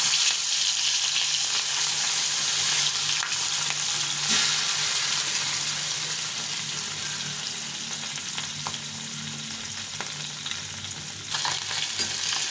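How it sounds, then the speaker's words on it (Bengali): Fish sizzle and fry steadily in hot oil for a Bengali mustard-paste dish, a loud, continuous crackle with occasional stirring and no talk. "তেলটা গরম করতে দিয়েছি, মাছগুলো ভেজে নেব।"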